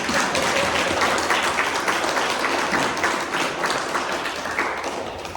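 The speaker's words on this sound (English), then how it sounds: "Now you can clap for our poet." An audience at a poetry and spirit gathering claps for a poet, a full round of lively applause with quick overlapping claps that stays strong and then tapers gently near the end.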